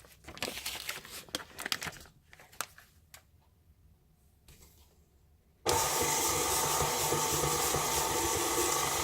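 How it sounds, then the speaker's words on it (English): An electric stand mixer creaming butter and sugar for Toll House chocolate chip cookies starts up abruptly partway through and runs as a loud, steady motor whir, after a stretch of scattered clicks and rustling handling noises. "Stop the mixer, scrape down the bowl."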